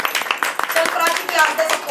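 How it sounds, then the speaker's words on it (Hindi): A group claps for a child after a tongue-twister game, dense overlapping applause heard close, with voices talking over it throughout. "तालियां बजाई जाए प्राची के लिए"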